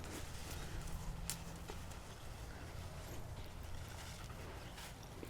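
Horse hooves clip-clop during a colt starting session, a steady stream of dull footfalls close by over constant outdoor rumble and noise, with no talking.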